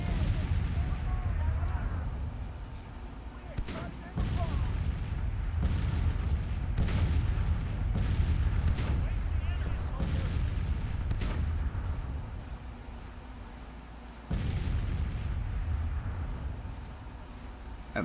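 Cannon fire in a Civil War strategy battle: repeated deep booms at irregular intervals, several close together, rumbling under steady low battle noise with someone talking over it.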